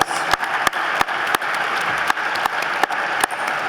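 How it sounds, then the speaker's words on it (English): Sustained round of applause from an audience at a university scholarship ball, steady dense clapping close and loud, punctuated by regular sharp rhythmic claps cutting through the crowd. "Yes, one more round of applause, please."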